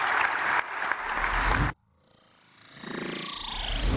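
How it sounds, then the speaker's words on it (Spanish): Audience applause at a business summit panel on Mexico's aerospace sector, a dense roar of clapping that stops abruptly partway through, followed by quieter room ambience. "les pido a todos un gran aplauso para este"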